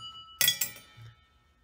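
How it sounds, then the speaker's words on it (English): Coins drop into a ding pot with two quick bright clinks and a short metallic rattle, faint and close, with no talk over them. "It's the sound of the coins."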